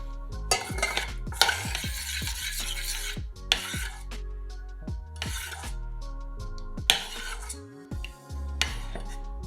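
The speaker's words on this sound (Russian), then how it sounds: "К остывшей глазури добавляем 100 грамм сливочного масла. Опять перемешиваем." A spoon stirs softened butter into cooled chocolate glaze in a bowl, giving repeated close scraping and rubbing strokes in a steady rhythm, with occasional clinks against the bowl. No one speaks.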